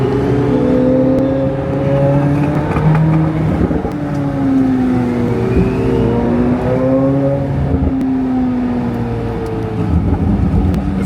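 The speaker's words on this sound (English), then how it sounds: "Twin turbo Lamborghini." A twin-turbo Lamborghini engine gives a loud, continuous roar that rises and falls in pitch as it revs, with smooth sweeping tones and no voices.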